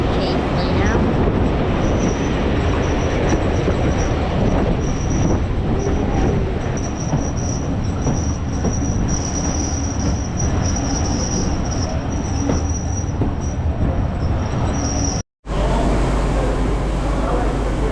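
A heritage steam train on the Keighley and Worth Valley Railway runs into Keighley during a 1940s weekend, a loud, continuous rumble with wheel squeal and a high whistle-like tone, cutting out abruptly near the end.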